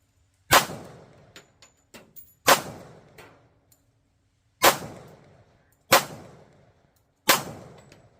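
A SIG P220 pistol in .45 ACP fires five loud, sharp shots at a zombie target, spaced unevenly over several seconds, each with a ringing decay and small metallic clinks between.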